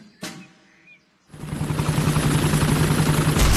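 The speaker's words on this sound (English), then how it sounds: "Miss Rabbit's helicopter has rescued Daddy Pig." A cartoon helicopter in a Peppa Pig episode starts up after a sharp knock and brief quiet, then a loud, steady whirring engine drone with a rhythmic rotor pulse continues to the end.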